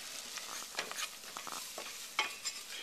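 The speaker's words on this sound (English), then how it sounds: "we're going to stir the butter and flour together" Butter and flour being stirred together in a pan, a faint close scraping and soft sizzling with light irregular strokes, no talk.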